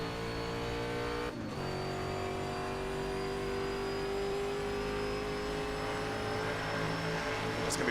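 Jaguar E-Type engine in a historic sportscar racing video game at Riverside, holding a loud steady drone with a brief dip near the start before pulling on again, continuous and close throughout.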